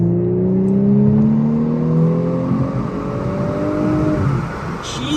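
A tuned 2018 Audi S5 Sportback engine revs hard and climbs steadily in pitch to redline as it accelerates, loud and close, with no talking.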